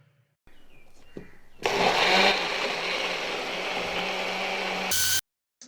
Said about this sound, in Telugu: మనం క్లోజ్ చేసి బాగా బ్లెండ్ చేసుకోవాలి